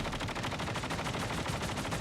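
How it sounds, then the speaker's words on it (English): Rapid bursts of gunfire in a battle royale video game, a dense, steady volley of shots that stays loud and close for about two seconds before cutting off abruptly. "I push towards the sound of the gunshots aimed at him"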